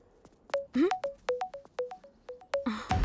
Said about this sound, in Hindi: मेरी दीदी फोन कर रही है।